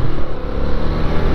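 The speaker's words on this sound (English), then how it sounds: "Listen to that engine." A 1983 Honda Ascot motorcycle engine runs at moderate revs, a loud, close, steady low rumble with a slight pulse, heard alone for a short moment.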